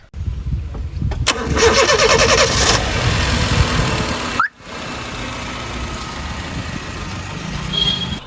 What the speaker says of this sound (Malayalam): ഒന്നര ലക്ഷം കിലോമീറ്റർ ഓടിയ ഒരു ഹോണ്ടയുടെ എഞ്ചിൻ്റെ സൗണ്ട്